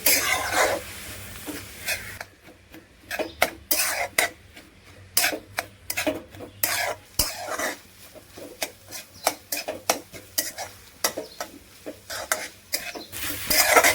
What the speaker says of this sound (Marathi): कोथिंबीर घालूया, चांगलं परतून घेऊया।